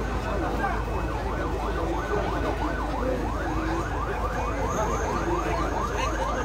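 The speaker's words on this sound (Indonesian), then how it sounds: "Satu unit ambulans kembali datang." Wailing ambulance siren at the scene of a bus and timber-truck crash, its rising and falling sweep repeating steadily over loud roadside rumble and crowd noise.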